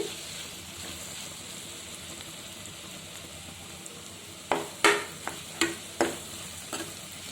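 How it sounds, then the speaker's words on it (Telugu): Cabbage and moong dal fry in a covered pan with a soft steady sizzle, then a few sharp scraping stirs of a spoon against the pan near the end. "అది 15 నిమిషాలు బాగా ఫ్రై చేసుకోవాలి మూత పెట్టి. అప్పుడప్పుడు కలుపుకుంటూ ఉండాలి ఫ్రైని."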